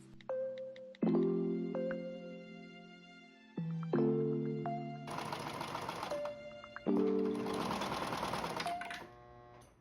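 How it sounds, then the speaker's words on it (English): Sewing machine stitching a dress waistband seam, close loud bursts of mechanical running that start and stop, joined by a tonal hum in the background. "We are gonna stitch the piece around all the waist using half an inch of seam allowance."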